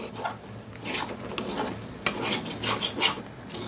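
Upma being mixed in a pan on the stove, a soft sizzle beneath repeated scraping stir strokes and a sharp utensil tap against the pan, close and without talk.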